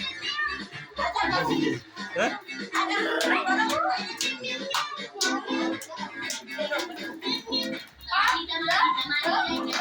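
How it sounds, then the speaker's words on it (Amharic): Clapping at a graduation celebration, irregular hand claps mixed with lively chatter and children's voices close by, the talk often louder than the claps. "እስኪ አጨብጭቡ አንድ ጊዜ"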